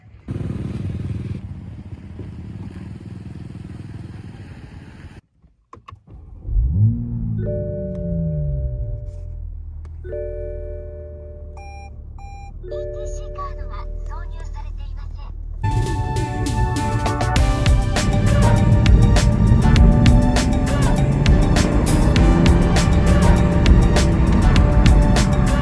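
A Toyota GR Supra on the road in Japan near Mt. Fuji, starting with a quiet idle, then a few chiming tones, then a loud engine rising and revving as the car pulls away and drives on.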